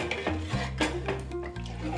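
Rice flour batter for chitai pitha is mixed by hand in a bowl, giving wet squelching strokes and soft slaps close by, over a low steady hum in the background.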